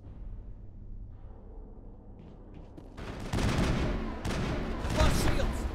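Enemy gunfire in Mass Effect breaks out after a quiet start, with dense bursts of rapid automatic shots and impacts that grow loud and continue to the end.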